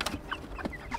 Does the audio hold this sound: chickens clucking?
yes